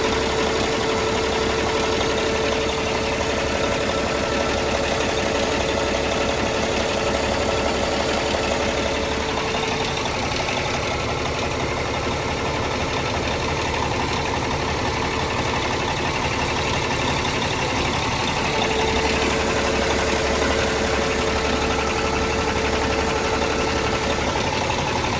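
A long-haul truck's engine idles in a steady, loud, low rumble that runs unbroken throughout, with a faint whine in parts and no talking.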